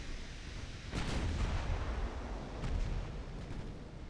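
Naval gunfire from 1905-era battleships in a strategy video game, with 11-inch and 13.5-inch guns firing: two heavy booming salvos roll out a few seconds apart over a continuous low rumble.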